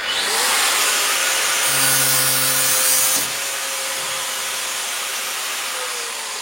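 A saw cuts through a Damascus steel knife billet forged from bandsaw and circular saw blades, a loud, steady whining grind that eases off after about three seconds and keeps running more quietly.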